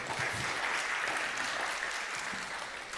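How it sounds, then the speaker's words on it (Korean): Sustained audience applause fills the whole stretch as a dense, steady wash of many hands clapping at once, fairly quiet overall and heard alone without speech. "박수 크게 쳐주세요."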